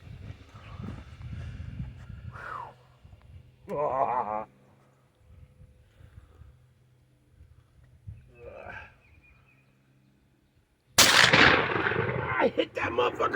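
A 1940s double-barrel 12 gauge shotgun fires once outdoors, a loud sharp blast with a ringing decay, following stretches of casual talk and quiet.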